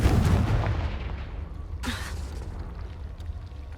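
A Confringo blasting curse explodes in the Hogwarts Legacy video game, a loud boom up front followed by a second sharp burst and rumbling decay, with no talk over it.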